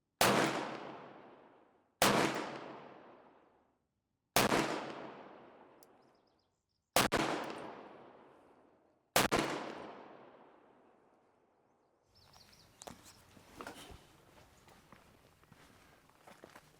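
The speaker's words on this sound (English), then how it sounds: "I've never shot this revolver past 25 yards before." Five loud, sharp .44 Magnum revolver shots firing Hornady 240gr XTP rounds outdoors, spaced about two seconds apart, each trailing off in a long echoing decay, followed by faint shuffling and handling noise.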